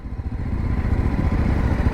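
Motorcycles roll into a parking area in Jibhi, Himachal Pradesh, their engines making a close, rough, chugging putter that holds steady through a short moment, with no voices.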